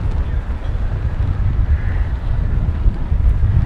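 Strong wind buffets a microphone at the DFW airport runway, making a loud, continuous low rumble with gusty surges throughout.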